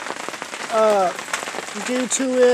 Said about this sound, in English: But this is all the rain you can see